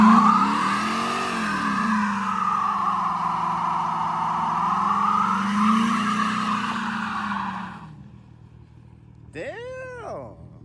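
A Chrysler 300 doing a burnout in traffic gives a loud, close, wavering tire squeal with engine roar for about eight seconds. It then drops away, and a short second squeal follows near the end.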